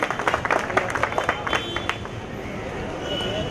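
Applause for a donor at a 2017 Bahucharaji group ceremony, a burst of brisk hand clapping from a gathered crowd that fades out after about two seconds into a low murmur.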